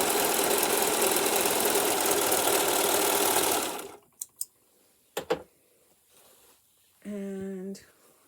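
A Singer Profinish serger stitches fabric at regular tension, running in a loud, steady whir for about four seconds before stopping. A few sharp clicks follow, then a brief buzzing tone near the end.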